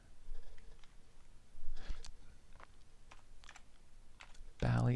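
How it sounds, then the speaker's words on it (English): Keys clatter on a computer keyboard while text is entered into a MAME emulation of the Bally Astrocade, scattered light taps spread over several seconds, faint and close, ending in a louder burst of clicks. "I'm going to type in"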